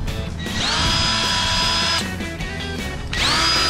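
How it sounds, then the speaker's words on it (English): A power drill whines up to speed pre-drilling hinge holes in wood, running steadily for a couple of seconds, stopping briefly, then spinning up again, close and loud. "I'm going to put my hinge on and I'm going to pre-drill my three holes"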